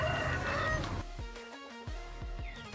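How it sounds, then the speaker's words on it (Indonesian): Free-range village chickens on a poultry farm cluck and squawk in a busy flock, several birds close by with short repeated calls over a steady farmyard background. "Ini ayam kampung asli ya."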